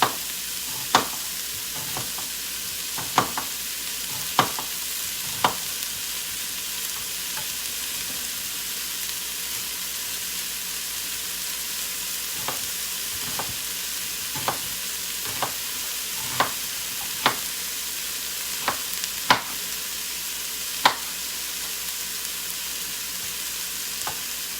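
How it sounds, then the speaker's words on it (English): Onions frying in a pan give a constant broad sizzle throughout, with scattered sharp ticks and taps from a utensil or pops, near and steady, no talking. "So we're gonna let that fry up for about 30 seconds to a minute."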